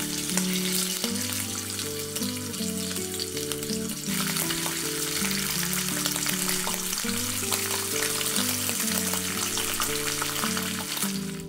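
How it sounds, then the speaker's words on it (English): Thin beef slices sizzle steadily in a hot pan as they are pre-grilled for sukiyaki. The frying is loud and close, with a constant crackle and no talking. "Grill until one side turns brown, but leave the other side slightly pink"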